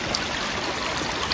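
Clear, cold stream water flowing at a picnic and bathing spot, a steady broadband rushing and trickling wash, close and continuous with no talk.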